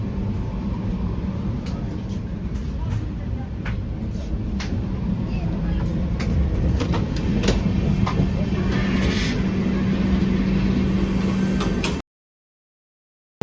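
A train rumbles along heard from inside a coupe, a continuous low roar with rattling and clicks that stays steady for about twelve seconds before cutting to silence.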